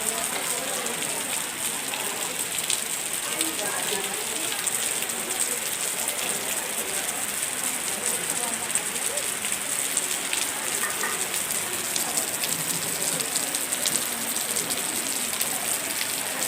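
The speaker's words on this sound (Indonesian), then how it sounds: "langsung disambut dengan hujan deras ini ya" Heavy rain pours steadily at an outdoor Muhammadiyah and Aisyiyah regional gathering in Simeulue, a dense, loud, continuous hiss of drops on surfaces with no letup throughout.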